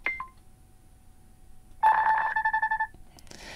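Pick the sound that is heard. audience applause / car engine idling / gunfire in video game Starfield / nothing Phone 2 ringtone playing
nothing Phone 2 ringtone playing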